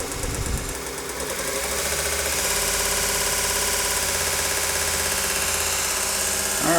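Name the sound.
VEVOR 1-inch belt grinder sander running at high speed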